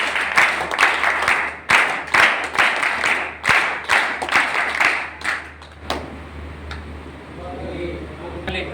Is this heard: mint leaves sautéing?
no